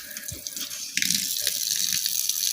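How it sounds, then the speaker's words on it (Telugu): Water streams from a 4-in-1 black kitchen sink tap, a steady close hiss of flow into the basin that grows stronger partway through as the spray opens up. "ఇది వచ్చేసి చూడండి సార్, 4 వైపులా కూడా వాటర్ వస్తుంది మేడం."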